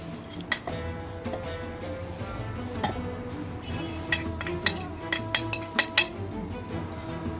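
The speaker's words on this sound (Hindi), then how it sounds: "चम्मच की मदद से सबको ब्लेंडर में डालेंगे।" A metal spoon clinks and scrapes as ingredients are scraped into a blender, a series of sharp taps and scrapes, some clustered near the end, with faint background hum.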